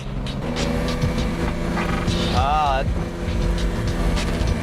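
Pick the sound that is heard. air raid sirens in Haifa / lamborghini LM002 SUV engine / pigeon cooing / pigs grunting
lamborghini LM002 SUV engine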